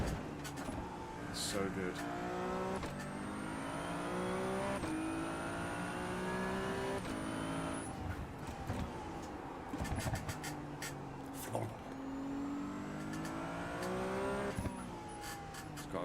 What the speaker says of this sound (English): I love the burbles at the back of the Ferrari.